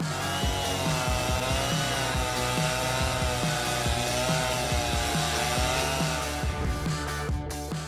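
Homemade cutting tool sawing through a tree trunk, a loud continuous motor drone with a rapid, regular chugging pulse running steadily throughout, close and without speech.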